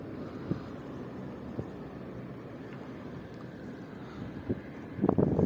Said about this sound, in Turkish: Arada bir rüzgar esiyor ama serin.